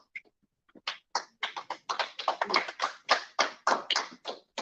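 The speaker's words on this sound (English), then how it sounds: "Give her another round of applause." Crowd applause breaks out at a community meeting after a brief pause, a dense run of hand claps rising and holding steady, close and fairly loud, with no talking.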